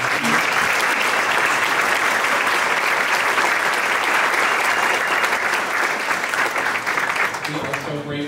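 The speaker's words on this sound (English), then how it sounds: "Can we get a round of applause for our Pianists?" A spring performance audience applauds the pianists with loud, dense, sustained clapping that fills the room, with a few voices and cheers mixed in and tapering near the end.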